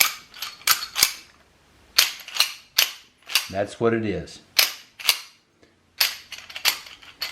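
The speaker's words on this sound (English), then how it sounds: "That's a full slide rack. It is the slide meeting the frame at its rearward-most point of recoil." A Browning Hi-Power pistol slide racked repeatedly, each a sharp metallic clack of the slide meeting the frame at full rearward travel, close and loud in an irregular series, with a brief spoken remark in between.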